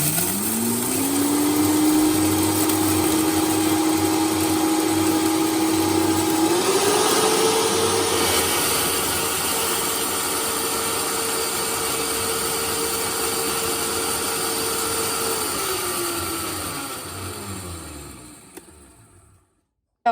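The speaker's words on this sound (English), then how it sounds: "I'm gonna put this in my blender and just make it into powder" A loud blender grinding dried onions into powder whirs steadily, its motor pitch rising slightly, then winds down and stops near the end.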